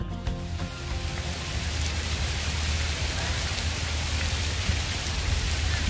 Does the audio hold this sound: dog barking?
no